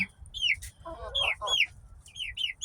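Hens cluck and squawk in short bursts close by in a pallet-built chicken coop and shelter, with a soft background hum and scattered chirps.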